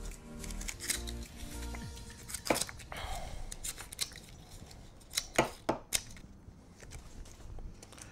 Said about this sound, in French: je vais couper différents tronçons de pandanus séché pour venir cacher la soucoupe extérieure